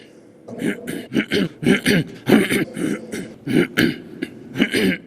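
Someone clears their throat repeatedly at close range, a rapid series of rough, gravelly hacks with no speech.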